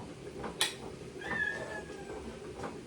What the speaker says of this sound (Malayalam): നമ്മുടെ പൂച്ച ഇതാ